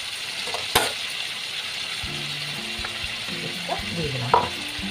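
A paste of onion, garlic and ginger sizzles in a pan for chicken curry, with a steady close fry, a sharp clack near the start and scraping stirs from the second mark onward.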